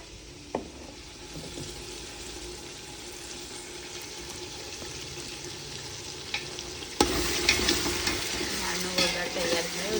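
Small tempering of spices sizzles in hot oil for paneer curry in a home tiffin kitchen, a steady crackling hiss that grows louder and busier partway through, with faint clinks and no talk.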